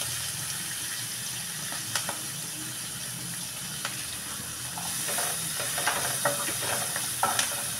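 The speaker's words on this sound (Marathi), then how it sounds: "हिंग, मोहरी आणि जिरं असं सगळं घालायचं. मिरची घालायची, त्यानंतर कांदा घालायचा त्याच्यामध्ये." A constant hiss of oil frying onion with asafoetida, mustard seeds, cumin and green chilli for shevaya uppit, with occasional faint crackles and spoon clicks against the pan, no voices.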